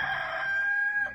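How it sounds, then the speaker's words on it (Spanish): A rooster crows once, close and clear, a single drawn-out cock-a-doodle-doo heard alone in quiet surroundings. "en ese mismo instante cantó el gallo"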